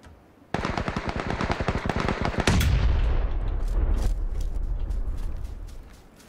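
Gunfire in the video game PlayerUnknown's Battlegrounds: a rapid automatic burst of about twenty evenly spaced shots, then a heavy blast that rolls into a long, fading rumble.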